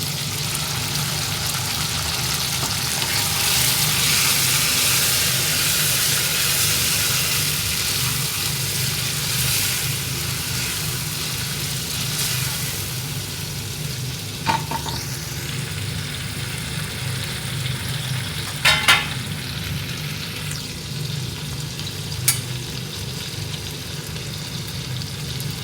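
Mixed vegetables stir-fry in hot oil in a pan, giving a continuous bright sizzle that stays steady and close, with a few sharp scraping or clinking stirring sounds on top and no voices.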